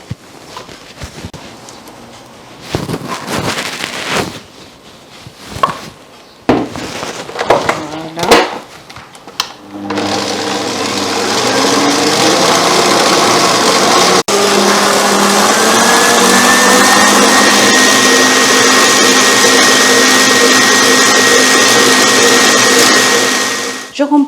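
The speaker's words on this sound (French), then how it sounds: "J'ai la fait monter tout de suite sur le robot." A stand mixer whips a chilled strawberry ganache for macarons, its motor starting after a few clacks and handling sounds and then holding a loud, steady whirring drone with a rising whine until the end.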